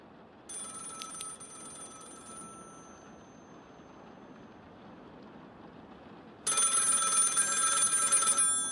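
Phone ringing in the game Don't Go Into The Basement, two separate bursts of a shrill ringing bell: a short one early, then a long, louder ring after several seconds of low ambient hum.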